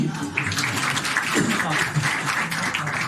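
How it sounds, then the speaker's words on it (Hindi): A church congregation claps together in a continuous patter of applause, with voices mixed in underneath. "ताली बजाए जी।"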